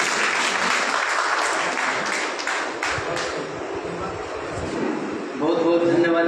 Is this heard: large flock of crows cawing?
no